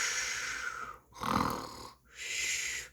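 A person imitates loud snoring at a children's library story time, one long rasping snore-like breath surrounded by two hissy exhalations, close and alone with no other talk.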